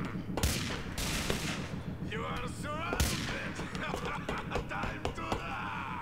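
Gunfire in the video game Grand Theft Auto IV: repeated loud shots and bursts crack through a busy mix of game effects, with a voice talking over part of it.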